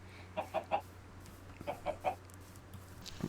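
Chickens clucking in Minecraft, two quick bursts of three short clucks each, separated by a pause, over a low steady hum.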